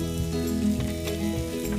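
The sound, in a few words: spicy steak searing in a hot pan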